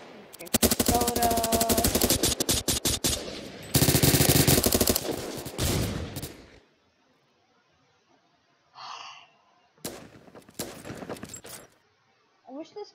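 Automatic weapon fire in the online shooter game Phantom Forces: long, loud, rapid bursts in the first half, a pause with a single breath, then shorter bursts toward the end.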